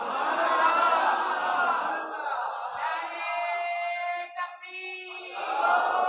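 A crowd at a religious gathering shouts back a slogan in unison, a loud massed roar that swells, fades into scattered voices and then surges again.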